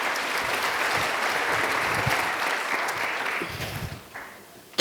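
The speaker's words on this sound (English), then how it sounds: "Let's give a round warm of applause for our undecided voter" Sustained audience applause at a Rotary club variety show, a dense steady wash of clapping from a crowd that fades near the end before a sudden loud burst.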